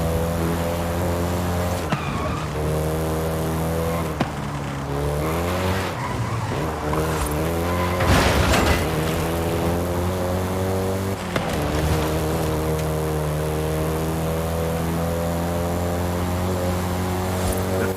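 Volkswagen Golf GTI driven in Forza Horizon 5, engine revving loudly through gear changes with repeated tire squeals and skids, continuous and close with no talking.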